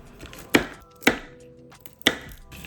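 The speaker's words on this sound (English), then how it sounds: "This is what I like to hear. Roughly chopped." Three sharp, separate knife chops through almonds on a cutting board, spaced roughly half a second apart, close and fairly loud, with quiet background between strikes.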